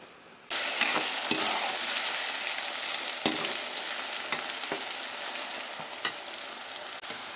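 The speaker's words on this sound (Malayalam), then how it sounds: "ഇതിലോട്ടിട്ട് ബീട്രൂട്ട് വറുത്തെടുക്കണം" Steady loud sizzling of chopped beetroot frying in oil, beginning abruptly and continuing throughout, with occasional sharp scraping clicks of a utensil stirring.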